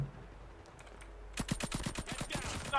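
Nail gun fired in Call of Duty Mobile: after a quiet start, a rapid string of about a dozen sharp, evenly spaced shots rattles off for the last second and a half, loud and close.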